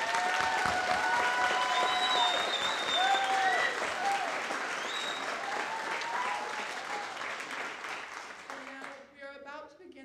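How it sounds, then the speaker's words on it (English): An audience at a vocational nursing pinning ceremony for the class of 2022 gives sustained applause with some cheering voices above it, the clapping thinning out and fading near the end. "Please join me in a well-deserved round of applause for our graduates of 2022"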